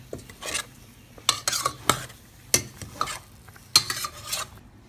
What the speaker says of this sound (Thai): ไล่น้ำออกจากมันนะครับผมมันต้มมานานนะครับ